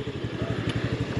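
A motorcycle engine idles at a roadside rest stop on the Ternate-Nasugbu Highway, its low, steady pulsing thump close and continuous with a slight rattly edge, no voices over it.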